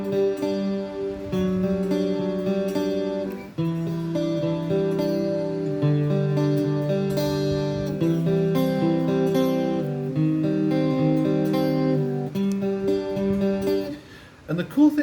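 An acoustic guitar picks an arpeggiated pattern on three strings, steady fingerpicked notes ringing clearly alone for the whole stretch.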